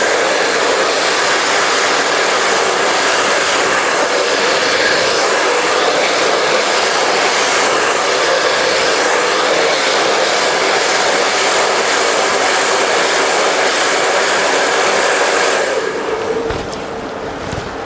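A hair dryer blows steadily and loudly at close range during an in-turn blow-dry of a razor or feather haircut, a continuous broadband rush that cuts off near the end.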